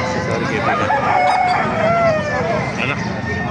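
Chickens at the Calumpit market cluck and crow loudly and close, with a rooster's drawn-out call over busy market babble and people talking nearby.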